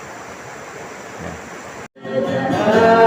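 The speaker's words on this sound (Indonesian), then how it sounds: "Jadi dari dalam gereja kita bisa mendengar suara air terjun." A waterfall beside a rural church in Nanga Taman is heard from inside as a steady broadband rush, then after a brief gap it returns louder and closer, with a short spoken word just before.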